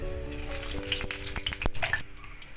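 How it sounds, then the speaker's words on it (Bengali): Nigella seeds hit hot mustard oil in a kadai, giving a close, bright crackle and sizzle with a few sharp pops over a low hum, brief and without speech. "এতে আমি একটু কালো জিরে ফোড়ন দিলাম"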